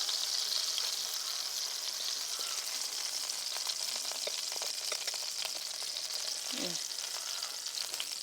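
Chicken shahi kababs sizzle and fry steadily in a pan, a constant bright crackle with small pops, close and alone.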